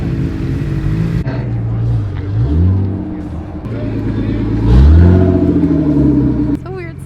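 An Audi R8 V10 sports car engine rumbles close by, its pitch swelling and sweeping upward in a couple of revs before settling, with people talking over it.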